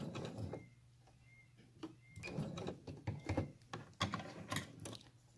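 A sewing machine stitches fabric wipes in uneven mechanical bursts, its clicking needle and gear rattle close and fairly loud, with brief pauses between runs and no speech.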